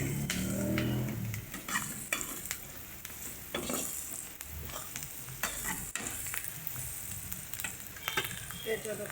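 Onion and spices sizzling in a pan for poha, stirred with a spatula. Continuous close frying hiss runs under frequent scrapes and clinks, with a louder burst of sizzling at the start.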